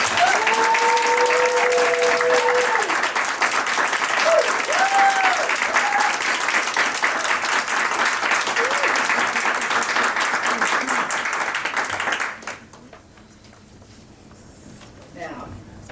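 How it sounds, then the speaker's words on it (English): A scholarship awards ceremony crowd claps loudly and continuously for about twelve seconds, with a few whoops rising over it, before it stops abruptly and leaves a quieter room. "Let's give our recipients another round of applause."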